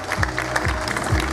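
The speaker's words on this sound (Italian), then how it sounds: "Un applauso ancora" A short burst of audience applause at a rueda de casino salsa dance festival in Verona, mixed with low musical thumps and crowd noise.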